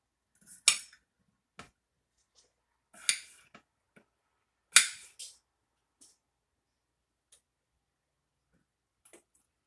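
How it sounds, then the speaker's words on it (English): Knife blade chopping potatoes on a cutting board for meatball stew, heard as a handful of sharp, separate taps and clicks spaced unevenly with quiet gaps between, close and fairly soft. "I'm gonna cut up the potatoes now."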